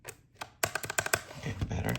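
Keycaps are pressed onto the switches and stabilizers of a handmade mechanical keyboard. A quiet, irregular series of sharp plastic clicks and snaps comes at close range, several in quick succession.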